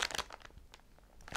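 A LEGO plastic polybag is torn open, giving short close crinkling and crunching bursts at the start, quieter rustles through the middle, and a sharp loud rip at the end.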